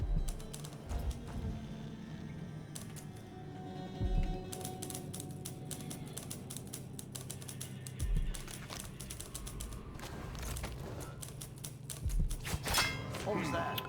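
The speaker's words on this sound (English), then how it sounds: "And then somebody's typing." Typing on a keyboard in Dishonored 2, rapid clattering mechanical keystrokes that sound like a typewriter, continuous and fairly faint under game ambience and someone talking.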